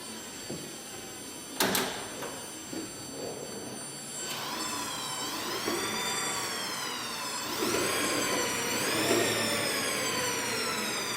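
An electric motor in a VW Thing EV conversion whines up under throttle, spinning a rear wheel with rising and falling pitch sweeps, preceded by a brief clunk and faint mechanical noise.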